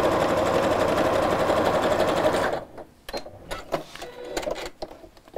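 A sewing machine runs steadily while stitching fabric, a loud, close continuous mechanical whir that stops after about two and a half seconds, followed by quieter handling clicks and rustles.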